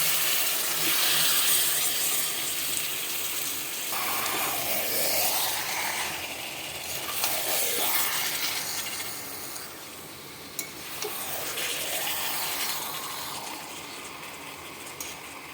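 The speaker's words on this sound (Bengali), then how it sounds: "এবার আমি ম্যারিনেট করা চিকেনটা আমি দিয়ে দেবো এর মধ্যে।" Marinated chicken tipped into a pan of fried-down masala, sizzling and crackling steadily with stirring scrapes, close and moderately loud, no voices.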